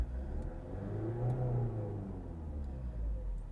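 An Opel Zafira engine revs up and falls back, a steady mid-pitched rumble rising and easing, close and alone.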